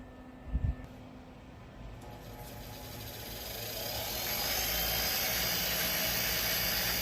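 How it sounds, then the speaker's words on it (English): An angle grinder cleans up a freshly welded minibike chain tensioner part, its broad whining hiss rising from faint to a steady, sustained grind. "I'm gonna clean it up on the grinder"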